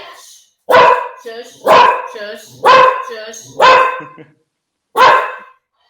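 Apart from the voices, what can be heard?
dog barking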